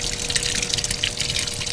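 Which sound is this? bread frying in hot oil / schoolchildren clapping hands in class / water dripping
water dripping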